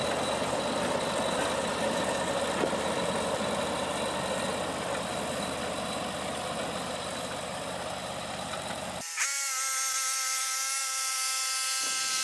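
A sawmill blade cuts through a log to make a plank. A loud, steady roar runs for about nine seconds, then stops abruptly, leaving an engine idling with a harmonic hum.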